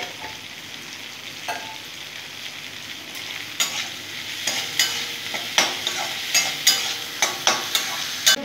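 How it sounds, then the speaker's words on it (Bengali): Sugar fries in oil in a pan with a soft steady sizzle, joined by a series of regular scraping stirs that grow more frequent and distinct toward the end, heard up close. "কালার হওয়ার জন্য তেলের মধ্যে চিনি দিয়ে নিলাম"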